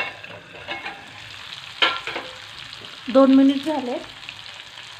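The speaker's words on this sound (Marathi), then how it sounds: "हे बघा छान फ्राय झालेत त्याला।" Bitter gourd frying in a pan gives a soft sizzle with a few sharp stirring scrapes, and someone speaks briefly over it near the end.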